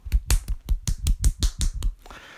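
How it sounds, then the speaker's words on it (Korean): Hands clap at a church youth service to celebrate graduating sixth graders. About ten sharp, evenly spaced claps sound close and distinct in a quick rhythm, then stop, leaving a quiet room. "박수!"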